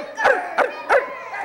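A storytelling audience imitates dogs barking: three short, separate yelping woofs from a group of voices at moderate loudness, evenly spaced with brief pauses between.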